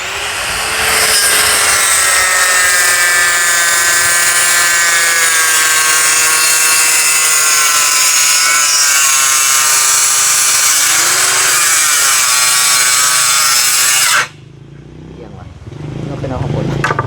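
A loud saw grinds steadily through wood with a harsh, droning whine, then abruptly cuts off near the end, leaving quieter background noise.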